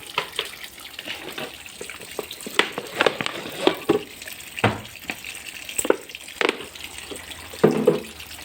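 Water runs into a washing machine being loaded with liquid detergent, a steady splashing flow broken by irregular louder sloshes and clunks.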